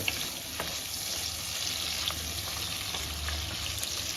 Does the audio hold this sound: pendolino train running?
no